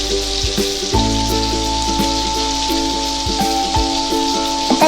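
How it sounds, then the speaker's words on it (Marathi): Chopped onion sautéing in hot oil with cumin, mustard seeds and fresh curry leaves, a continuous close sizzle with crackles, under steady tonal background music throughout. "कांदा तेलात छान मऊ आणि हलका गुलाबी होईपर्यंत परतून घ्यायचा आहे।"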